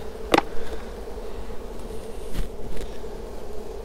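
Honey bees buzz at an open double-brood beehive, a soft, steady hum close by, with one sharp brief knock near the start and faint handling noises.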